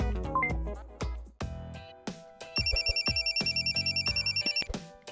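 A musical ringtone plays on a phone in a cartoonish horror video game, starting with plucked melodic notes and then a rapid, repeating electronic trill that pulses steadily for a couple of seconds, clear and close.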